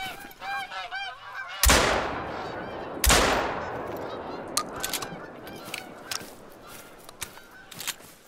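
Geese honk in a flock in theHunter: Call of the Wild, Hirschfelden reserve, a rapid chorus of calls, cut by two loud gunshots, then sparse distant honks and sharp clicks follow.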